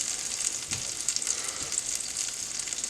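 Cheese frying onto a ciabatta bun on a hot surface, a steady close sizzle with light crackles throughout, no talk.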